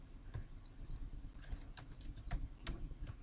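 Typing on a computer keyboard while entering a variable name into an epidemiological study database, a quiet, close run of uneven key taps and clicks with short pauses.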